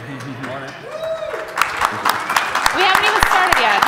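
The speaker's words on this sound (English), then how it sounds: "We haven't even started yet. No clapping." Scattered audience applause breaks out at a 2018 conference automation panel, a few sharp claps building under a woman's spoken greeting and continuing irregularly beside her voice.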